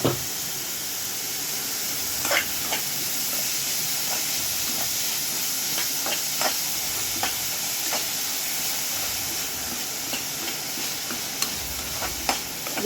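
Onions and spices sautéing in a pan for chicken curry give a continuous low hiss and sizzle, broken by occasional light spoon clicks and stirring scrapes.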